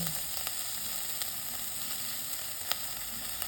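Tomato sauce and other sauces fry in a pan for restaurant-style gobi manchurian made at home, giving a close, even, hissing sizzle with faint ticks and pops and no talking.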